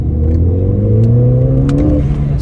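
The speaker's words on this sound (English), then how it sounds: "So that's just a second gear pull." Ford Fiesta ST pulling hard in second gear, the engine note loud and near, rising steadily in pitch through the rev range without a break and with no talking.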